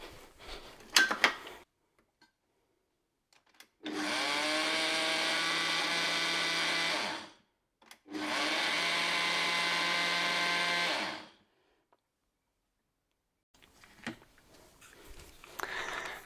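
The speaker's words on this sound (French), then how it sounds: "remplir mon moulin et moudre tout ça finement sur ma machine" An electric mill grinds dried vegetables into a fine powder for bouillon. It runs in two whirring bursts of about three seconds each, separated by a short pause, with light clattering before and after.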